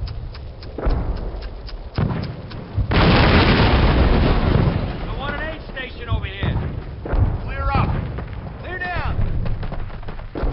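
A grenade explodes in a World War II Call of Duty game, a loud broadband blast that sustains for several seconds, followed by scattered thuds and soldiers shouting over the fading rumble.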